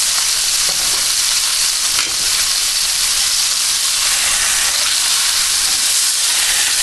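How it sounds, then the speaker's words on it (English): A beef pot roast searing in a hot pan, loud continuous close-up sizzle and spitting hiss that holds steady throughout. "we're going to go ahead and we're going to quickly sear the roast on all sides"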